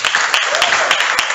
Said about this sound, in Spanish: le damos a Cristian Alexander un fuerte aplauso